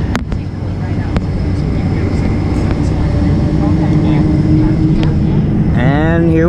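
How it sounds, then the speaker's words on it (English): A United Boeing 747 on its takeoff roll from SFO, a loud, steady engine roar filling the cabin throughout, with a rising whine sweeping upward near the end. "And here we go, the last ever takeoff for United 747 carrying passengers."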